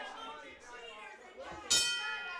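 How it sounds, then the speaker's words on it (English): A ring bell at a wrestling event is struck once, a sharp bright clang near the end that rings on above the low murmur of the crowd in the arena. "The bell is rung, ladies and gentlemen."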